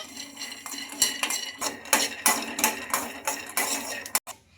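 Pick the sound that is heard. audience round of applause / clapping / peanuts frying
peanuts frying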